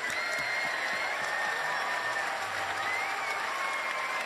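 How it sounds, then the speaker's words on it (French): A concert audience at the Chorégies d'Orange applauds the performing artists, a dense, steady wash of clapping that stays loud and even throughout. "On va les applaudir bien fort, s'il vous plaît, tous les artistes qui ont défilé sur cette scène devant nous ce soir."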